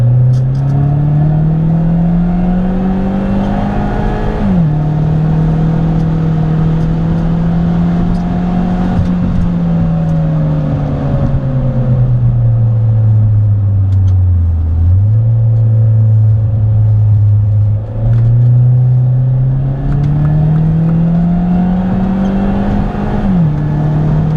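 A car with a Maptun Nano tune accelerates hard through its gears, the loud engine drone climbing in pitch, dropping at each shift and rising again, with a constant close rumble and no talk.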